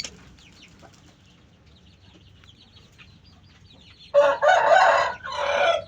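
A male sooty-headed bulbul lets out a loud, harsh burst of calls at close range while being unboxed. Faint, quiet chirps come before the outburst.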